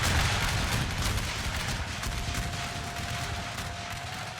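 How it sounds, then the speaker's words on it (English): Gunfire from a firefight in a strategy game, dense and continuous, crackling shots layered over a low rumbling bed of sustained combat noise. "A firefight has started."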